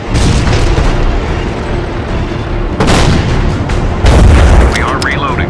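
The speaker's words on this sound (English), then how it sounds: "use your upgraded cannon's range to annihilate from afar" Tank cannon fire in the Battle Supremacy video game: heavy, loud booms over a continuous rumbling battle bed, with sharper blasts about three seconds in and again near four seconds, while a voice talks throughout.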